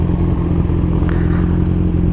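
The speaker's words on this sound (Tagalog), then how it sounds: "Ang pagbobomba or revving at high RPM when your bike is stationary is bad for your engine." A stationary motorcycle engine runs at high RPM, a loud, steady, close-up drone with a strong low harmonic hum and slight rattling clatter throughout, no voices.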